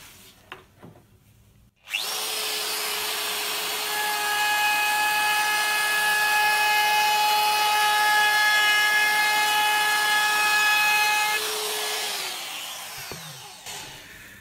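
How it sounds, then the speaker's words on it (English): A high-pitched trim router whines steadily for about ten seconds as it rounds over the edge of a wooden lid, then spins down and stops. "I'm just going to ease these sharp corners with my trim router."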